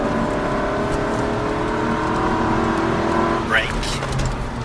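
Aston Martin V8 Vantage accelerating on a race track, a steady loud engine drone heard from inside the car with a rising rev sweep near the end, while an instructor talks over it.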